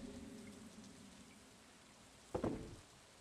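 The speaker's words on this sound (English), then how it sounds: "It's raining today." Soft, steady rain ambience from the Stardew Valley video game forms a continuous hiss throughout, with a brief louder burst near the end.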